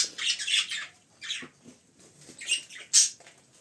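Pet birds in a cage, one of them a baby, give short high chirps and soft scratchy twitters in scattered bursts with quiet gaps, close and fairly faint.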